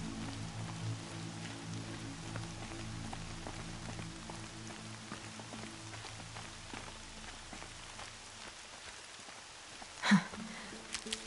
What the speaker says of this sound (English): Rain's not so bad.